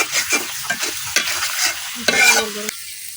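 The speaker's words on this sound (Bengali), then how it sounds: "এখন আমি এই মশলাটা কিছুক্ষণ কষাই নিলাম" A spice paste with salt is stir-fried in a pan for a village-style onion tilapia and puti fish curry, with close scraping stirs and a soft sizzle that rises in a brighter burst near the end.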